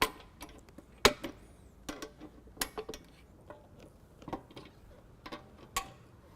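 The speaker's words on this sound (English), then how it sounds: "What I'll do is I'll just tighten up those bolts." Bolts being tightened on the shifters of a power sled, a series of sharp metallic ticks and clicks from a ratcheting tool in irregular bursts, close and quiet otherwise, no speech.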